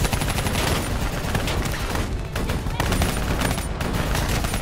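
Dense, continuous gunfire from Call of Duty: Black Ops III, with automatic weapons rattling nonstop in a loud battle mix that also carries explosions, and shouting voices now and then.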